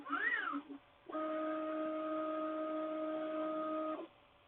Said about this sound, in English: this printer does seem a fair bit louder than my other printer